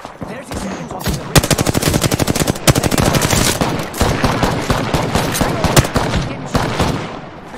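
Rapid automatic gunfire in the Apex Legends video game rattles out in dense, loud sustained bursts, with a few brief pauses between volleys and sharp single cracks mixed in, close and dominant throughout.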